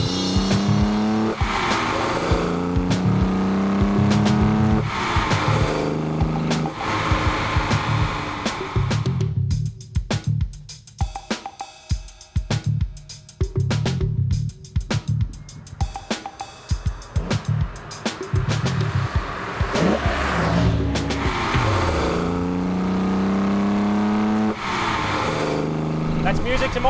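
Holden Torana six-cylinder engine breathing through six Weber carburettors, revving hard and rising and falling in pitch, loud and near, with a rougher crackling stretch midway and a voice talking over parts.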